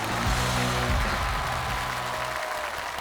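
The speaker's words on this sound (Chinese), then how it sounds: "我们还是要把掌声送给这一轮的谢江慧。" Dense, steady audience applause at a televised Yue opera Spring Festival gala, a broad wash of clapping filling the hall throughout.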